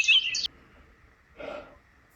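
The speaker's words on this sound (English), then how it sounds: "You could just hear the birds singing" A brief bright chirping bird call, followed after a pause by a softer, lower call; quiet in between.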